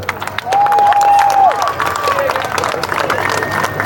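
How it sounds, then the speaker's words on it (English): A large rally crowd in Melbourne bursts into loud applause and cheering, dense clapping with shouts and a whistle, sustained close and full throughout. "Round of applause for Charlie."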